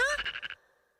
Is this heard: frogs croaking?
yes